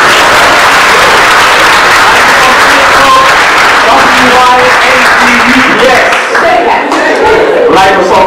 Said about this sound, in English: round of applause for one